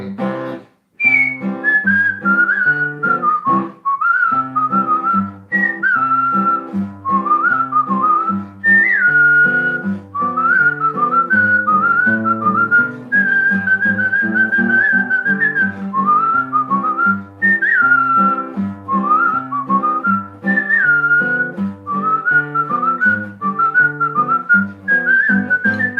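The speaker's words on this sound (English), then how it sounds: "he'd whistle in his own peculiar way." A person whistles a lively melodic tune solo, clear and close, with continuous phrases and brief pauses throughout.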